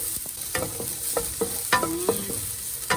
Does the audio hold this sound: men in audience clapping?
no